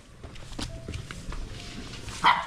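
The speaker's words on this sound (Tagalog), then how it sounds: "Oh, may aso." A single sharp dog bark rings out near the end after a stretch of quiet background noise and faint shuffling.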